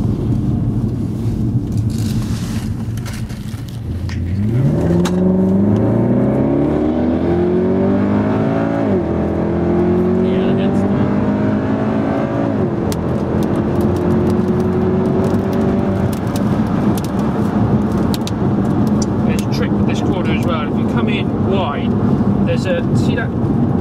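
A Mercedes C63 AMG wagon's V8 engine accelerates from inside the cabin, loud and close, its pitch climbing through several rising sweeps as gears change, with a steady drone after and people talking under it.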